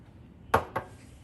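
Two quick clinks of a utensil against a cooking pot as black pepper, salt and garlic powder go in, close and fairly faint against a quiet kitchen background.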